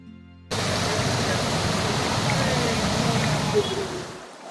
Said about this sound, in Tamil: இப்போ வந்து மீன்வெட்டி பாறை அருவிக்கு பக்கத்தில் வந்திருக்கோம் இங்கே ஒரு நீரோட ஓடிட்டு இருக்கு